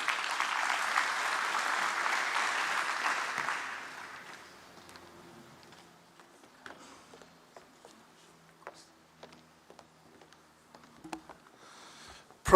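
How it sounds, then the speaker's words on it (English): At a national transport conference, audience applause rises from the hall for about four seconds, then fades into scattered claps and quiet room noise. "a round of applause for that"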